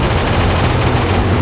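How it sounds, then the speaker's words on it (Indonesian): Rapid gunfire as a sound effect in an Indonesian-dubbed Voltron cartoon, a loud, dense, continuous crackle of shots in heavy battle with no pause. "Tembakan gencar segera terjadi."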